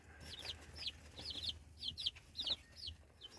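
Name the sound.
bantam chickens clucking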